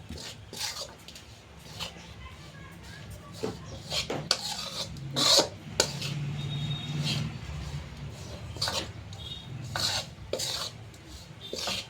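Flour being mixed with ghee for a mohanthal-style sweet makes close, intermittent rasping and rubbing scrapes in bursts of varying strength, with soft background noise between them.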